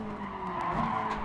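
Tires skid and squeal as a car oversteers in Gran Turismo Sport, a brief continuous screech over the racing engine's drone, close and fairly loud.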